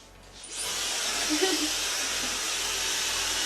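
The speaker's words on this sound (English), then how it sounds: "I'm gonna start blowing down, and I'm gonna give the blow dryer itself a little wiggle." A blow dryer switches on and runs with a steady, close airy roar and broad hiss, holding level for several seconds while blowing hair over a brush.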